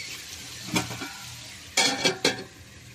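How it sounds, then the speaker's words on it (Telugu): A spoon stirs dried prawn and okra curry with chili powder in a pan, giving a few close scraping strokes over a low steady sizzle, with no talk. "కలుపుదాం. కారంలో కూడా కాసేపు మగ్గనివ్వాలి."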